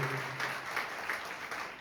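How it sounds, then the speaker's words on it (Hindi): An audience claps to welcome students at a workshop, steady moderate applause that continues throughout. "आप लोग फिर एक बार ताली बजा करके उनका स्वागत कर सकते हैं"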